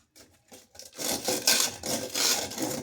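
Rough sanding of a bathroom water pipe near a shut-off valve, scraping off grime: quiet scattered scrapes at first, then a steady loud rasping friction in repeated strokes, close and alone without talk.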